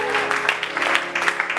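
A church crowd claps and cheers for the elder Gervais, a dense burst of applause mixed with voices, lively and continuous.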